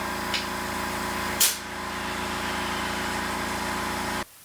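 A motorcycle tire on a factory spoke rim for an Indian Scout is being inflated. A loud, steady mechanical drone with an airy hiss runs throughout, with a brief burst partway in, before it cuts off abruptly.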